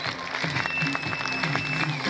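A burst of clapping from a crowd, fairly close and steady, with a few voices mixed in under it.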